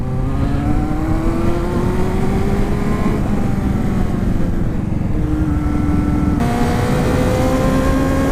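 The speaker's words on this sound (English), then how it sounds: "here we are heading up the hills on the little 250 and the little Bandit" A Suzuki Bandit 250 motorcycle climbing hills, its engine droning steadily with rising pitch through gears, loud and continuous with brief dips at shifts.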